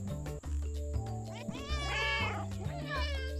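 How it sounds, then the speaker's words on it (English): A cat in the video game Cattails: Wildwood Story meows once, loud and drawn out, over steady background music with synthesized tones. "I don't know how I meowed"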